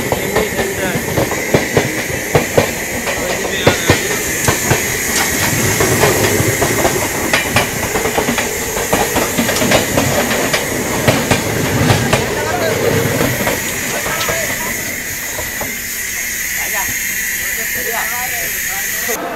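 Loud, close rumble of the Golden Temple Mail pulling into Mathura Junction, wheels clacking rhythmically over joints with a steady hiss, slowing and easing off toward the end; a voice talks over it at times.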